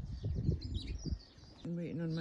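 Birds chirp outdoors near a racing-pigeon loft, thin high twitters scattered over low background rumble, faint and brief, with a voice-like tonal sound near the end.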